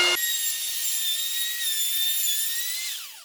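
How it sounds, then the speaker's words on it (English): A power saw cuts through a wooden arch panel backdrop with a steady, loud, high whine that holds for about three seconds before winding down, with no voices. "And now it's time to do our final cut."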